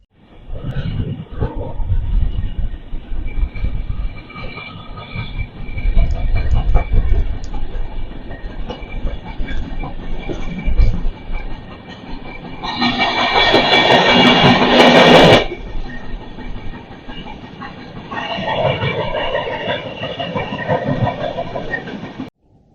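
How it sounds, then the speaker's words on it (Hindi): Indian Railways Duronto Express rolling slowly on the tracks, heard from on board as a continuous rumble with clickety-clack wheel beats and bursts of louder rushing noise, with no talking. "और धीरे धीरे ही ट्रेन चल रही है।"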